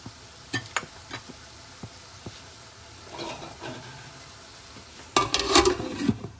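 Lamb mince and capsicum cooking in a covered pan give a faint, soft sizzle and hiss, broken by occasional clinks and stirring knocks. A louder burst of sizzling comes near the end.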